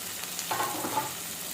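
Onions fry in a pan with tomatoes and curry leaves added, giving a brief, close, steady sizzle with a soft stirring scrape and no talking.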